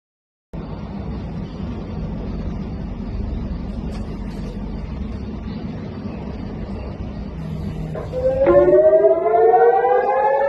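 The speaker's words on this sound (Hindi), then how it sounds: "इलाके में सायरन बजने लग जाते हैं" A continuous low engine-like rumble, then a loud rising siren wail swells in near the end, drowning out the background.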